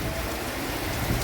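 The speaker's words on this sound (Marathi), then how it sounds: "आणि पाऊस बघू शकता, काहीतरीच पाऊस पडतोय." Heavy rain pours down steadily during a storm at a hotel, a dense, continuous hiss of downpour close by with no voices over it.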